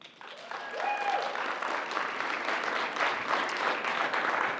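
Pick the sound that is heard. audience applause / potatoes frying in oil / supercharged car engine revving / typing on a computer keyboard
audience applause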